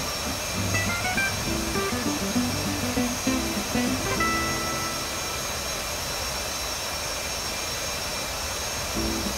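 A simulated jet engine throttled back to idle in a DCS combat flight simulator gives a steady broadband hum with faint whining tones, moderately loud and continuous without talk.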